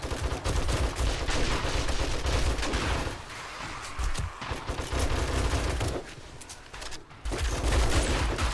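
Sustained heavy gunfire in the zombie survival game 7 Days to Die, dense overlapping shots and bursts rolling nearly continuously with a few brief lulls, loud and close.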